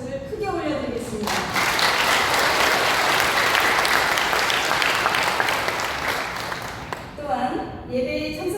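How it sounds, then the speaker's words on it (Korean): Congregation at a Korean church service for Liberation Day (August 15) applauding loudly and steadily for several seconds, with talk fading in and out at the start and end. "감사와 영광의 박수를 크게 올려드리겠습니다"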